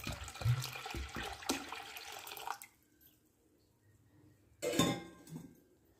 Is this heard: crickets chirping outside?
no